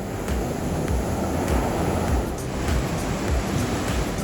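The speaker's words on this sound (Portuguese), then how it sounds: "as ondas aqui são bem fortes aqui" Strong ocean waves roll and break steadily at Bonete beach on Ilhabela, a continuous loud surf roar with wind buffeting the microphone and no voices.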